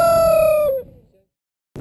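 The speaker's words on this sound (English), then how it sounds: "hanging out with the rooster" A rooster at a country general store near Shelby Forest gives the drawn-out tail of a single crow, close and clear, which fades into near silence before a brief noise at the very end.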